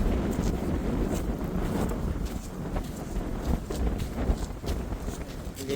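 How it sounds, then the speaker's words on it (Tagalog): Strong wind at the coast during backyard camping in bad weather, a steady loud roar of gusts buffeting the microphone with rough low rumbling throughout. "Hindi magandang hangin"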